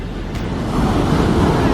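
Huge ocean waves crash and surge at Huntington Beach, California, a loud, continuous broadband roar building slightly toward the end, with wind buffeting the microphone.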